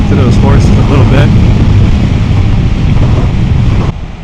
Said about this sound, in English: with the windscreen up, I'm getting a lot more wind, plus we're going a little faster